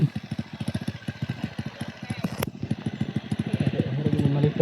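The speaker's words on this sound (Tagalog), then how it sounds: "Yan ang motor." A motorcycle engine idles close by with a quick, even chugging pulse that stays steady throughout, broken by one sharp click midway, with faint voices in the background.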